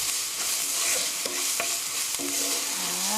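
Pear fried rice being stir-fried in a hot pan, a continuous loud sizzle with the scrape and clatter of a utensil tossing the ingredients, close up and with no talking.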